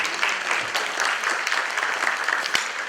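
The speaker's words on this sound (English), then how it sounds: "Please give her a warm round of applause." Audience applause at a health and wellness luncheon, a steady wash of clapping from a seated crowd that holds at an even level for the whole stretch.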